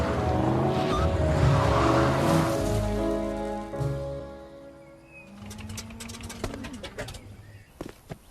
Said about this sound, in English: Here comes another one. Looks like an RV.